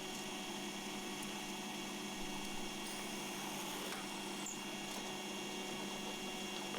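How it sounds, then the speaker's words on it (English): A pillar drill runs steadily while boring holes for fixing screws in a part for a three-stop continuo organ, a continuous quiet motor whine and hum with no talking. "So I'm just drilling the holes for the fixing screws."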